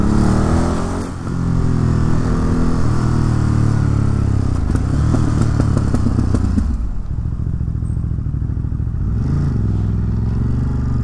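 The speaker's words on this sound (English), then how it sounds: "The backfiring is bizarre." De-catted Ducati motorcycle ridden on city streets, a loud, rough engine roar with uneven rapid popping and crackling bursts, then dropping into a lower rumble partway through, with no talking.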